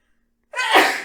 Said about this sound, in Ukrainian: Будь здоров, бажано не чихати в бік камери.